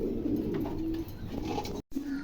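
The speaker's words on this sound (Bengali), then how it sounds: "দেখেন চমৎকার এক জোড়া কবুতর" A pair of pigeons at a pigeon market coo steadily and close by, their low murmuring continuous apart from one brief silent gap near the end.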